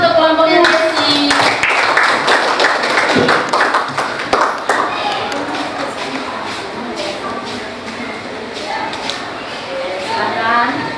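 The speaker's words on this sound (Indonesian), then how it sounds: "Tepuk tangan untuk kelompoknya Desi." Students in an Indonesian classroom clap for a group coming up to present, a burst of scattered hand claps that thins out while voices chatter in the room.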